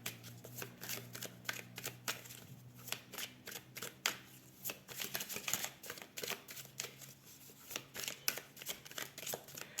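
Cards shuffled and handled for a tarot-style card reading, a crisp run of repeated riffling snaps and slaps, close and fairly quiet, with no talking.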